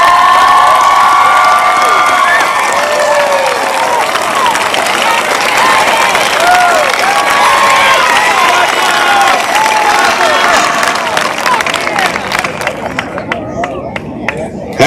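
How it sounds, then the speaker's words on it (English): A large crowd at a high school graduation ceremony gives loud, sustained applause and cheering for faculty and staff, mixed with whoops and excited shouting. The noise swells close and full, then thins toward the end. "Will you please stand and offer them a round of applause?"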